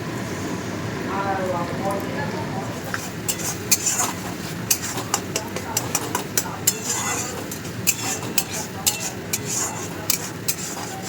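Pointed gourd frying in oil with turmeric, cumin and coriander spices in a pan, a low sizzle under scattered clinks and scrapes of a spatula against the pan, with someone speaking throughout.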